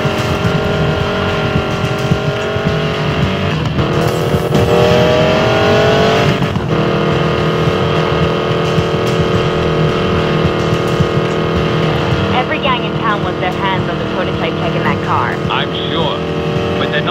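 Car engine in the Need for Speed Payback game, revving and pushed hard on the road, a steady loud drone with rising pitch sweeps, accompanied by voices talking over it and music.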